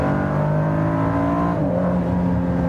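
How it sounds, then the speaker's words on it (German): Expensive high-performance sports car engine, a roughly 1.2-million vehicle, revving steadily with a loud, sustained tone that dips in pitch partway through, heard close up with no talk. "Die Geräuschkulisse, die der Wagen gibt, ist sehr geil"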